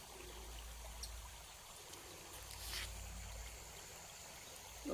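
A small spring or waterfall trickles and flows steadily outdoors, quiet and somewhat distant, a faint continuous wash of water with no voices.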